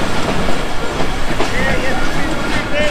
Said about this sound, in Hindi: अब यहाँ भी कोई हार्डली 1 मिनट रुकी है और चल पड़ी है ट्रेन